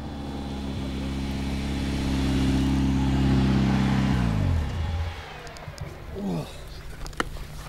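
A Caterham sports car engine drones loud and steady with rising pitch, then drops away as it shifts through the gears, and a brief voice follows.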